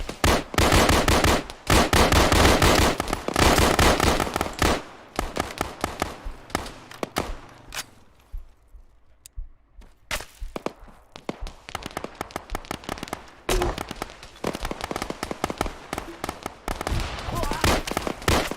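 Rapid bursts of gunfire in a shooting video game, loud and dense, with dozens of sharp shots in quick volleys, a brief lull midway, then steady firing resuming.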